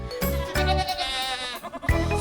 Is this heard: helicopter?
no